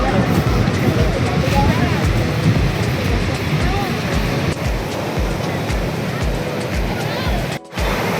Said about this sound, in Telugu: ఈ టైంకి అలలు అయితే చాలా చాలా బాగుంది